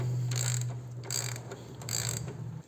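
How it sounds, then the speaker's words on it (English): A hand ratchet backing out the 19 mm bottom shock bolt on a 2021 Harley-Davidson Road Glide Limited, three short bursts of close, crisp clicking pawl strokes with pauses between. "Take out the shock bolt, bottom bolt, the 19 millimeter, and take it out on both sides."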